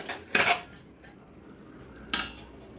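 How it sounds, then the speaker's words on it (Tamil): A plate is set over a cake dish with two short clinks of ceramic, one louder near the start and a softer one near the end, with quiet in between. "இதுக்கு மேலேயுமே ஒரு தட்டையும் மூடிட்டேன்."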